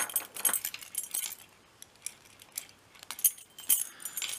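A bunch of keys jangles and clinks as they are taken off, heard close up in uneven bursts of light metallic rattling with short gaps between them, and no one talks.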